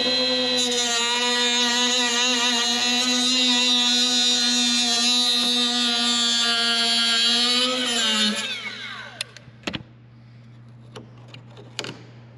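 A power tool cuts a small plastic piece while a snorkel is fitted to a Jeep Gladiator Rubicon, giving a loud steady high whine for about eight seconds that then winds down, followed by a few faint clicks.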